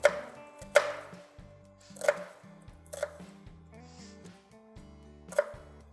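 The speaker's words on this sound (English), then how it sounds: "Again, using my both hands on the knife blade, I'm chopping." A knife chops food on a wooden board with several sharp, irregular strikes, close and fairly loud, under soft background music.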